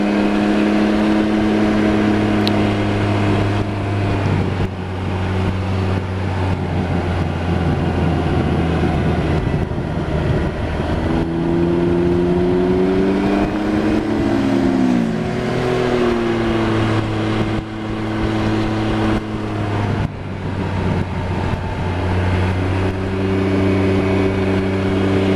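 A Can-Am Ryker three-wheel motorcycle rides the twisting Tail of the Dragon road, its engine droning steadily with rising and falling revs through the turns, loud and close throughout.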